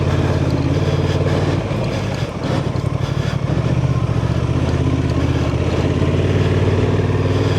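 Honda Transalp 750 big adventure motorcycle ridden off road on an OHV trail, a loud steady engine drone with a brief dip and rev change midway, close and continuous without talk.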